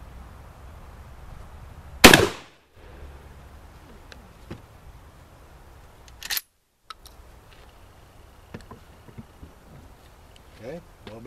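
A 12 gauge IAC Hawk 981R shotgun fires a Winchester PDX-1 duplex load of buckshot over a one-ounce slug at 25 yards: one sharp, loud blast, then a second short crack a few seconds later, over quiet outdoor background.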